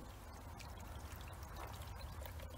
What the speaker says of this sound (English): you can just let it free flow out like this, and it'll actually drain a lot faster